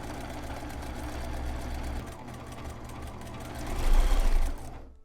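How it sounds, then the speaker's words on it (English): A sewing machine stitches along the front edge of a fabric face mask, a steady close mechanical whir that rises briefly in speed before stopping abruptly. "we're going to sew along this front edge here"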